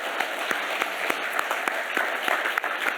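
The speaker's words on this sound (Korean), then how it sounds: "우리가 하나님께 영광의 박수 돌리기 원합니다." A church congregation applauds during a Sunday service, a dense, steady wash of clapping with distinct sharper claps scattered through it, filling the space.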